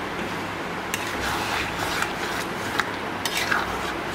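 A spoon stirs potol curry with yogurt and poppy seed paste in a pan, giving a steady close scraping and bubbling with occasional light metallic clinks and no voices.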